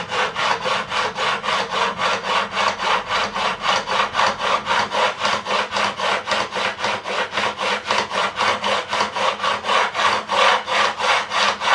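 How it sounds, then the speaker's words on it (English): Fast, steady back-and-forth rasping of a file levelling the frets on a Telecaster guitar neck, dozens of even strokes in a close, loud, unbroken rhythm with no talking. "It removes a lot of material in a short space of time, this file, so it really is a wonderful piece of kit."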